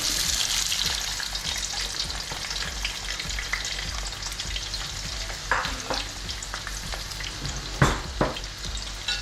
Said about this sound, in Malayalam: ആദ്യമായിട്ട് നമ്മൾ ഇതിനകത്തേക്ക് അരിഞ്ഞ് വെച്ചിരിക്കുന്ന സവോള ഇട്ട് കൊടുത്തു.